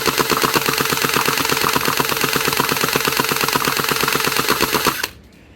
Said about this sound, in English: I'll fire it without the muzzle, without the hop up, and we'll see how it goes